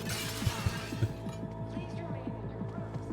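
Glass shatters in the video game Cyberpunk 2077, a bright crash at the start with tinkling debris trailing off over a pulsing low game soundtrack.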